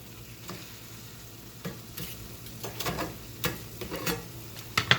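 Ground meat for spaghetti sauce sizzles in a pan while a utensil stirs and scrapes it, irregular clacks and scrapes over a low steady frying hiss, close and without talking.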